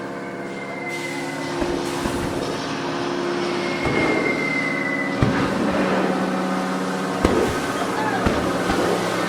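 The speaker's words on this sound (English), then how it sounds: "There's enemy bombers coming in at 12 o'clock. Bombs away, everybody. Hit the deck." Staged effect of enemy bombers dropping bombs on a studio backlot tour set: a series of booming explosions and heavy rumbling thuds over a sustained droning tone, with several sharp blasts spaced a couple of seconds apart.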